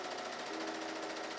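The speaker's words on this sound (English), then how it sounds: "I'm just going to fold them in half and sew down this edge and across one of the top edges to finish it off" A sewing machine stitching the straps of homemade overalls, a rapid steady whirring chatter of the needle running at an even pace, close up and alone.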